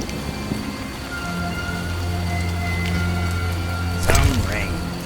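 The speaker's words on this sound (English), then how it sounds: "Some rain" Rain in The Witcher falls as a steady wash of noise under low humming game tones, with a brief swooping whoosh near the end.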